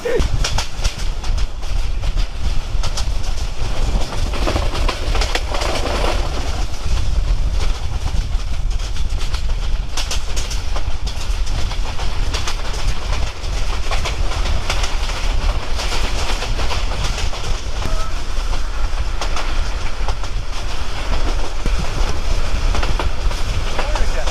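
A train carrying passengers toward Sylhet, Bangladesh rumbles steadily with loud, continuous wheel and carriage noise throughout, heard from on board. Faint voices surface now and then beneath the rail din.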